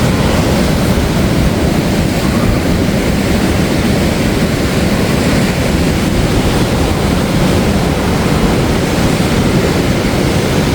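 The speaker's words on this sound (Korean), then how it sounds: "파도 높이가 5m" Large ocean waves on the East Sea coast roar as a loud, continuous wash of surf with no gaps, close and alone without voices.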